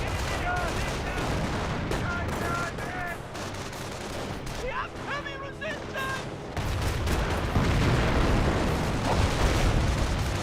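Rocket barrage fire and explosions in the World War II strategy game Company of Heroes, a dense, continuous rumble of blasts and crackling impacts with a heavier surge near the end, with faint voice-like tones in the middle.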